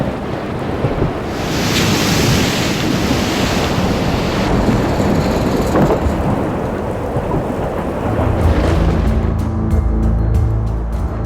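Cyclone Fani striking Odisha: a loud, continuous roar of wind-driven rain with rolling thunder and gusts buffeting the microphone, building and surging without letup.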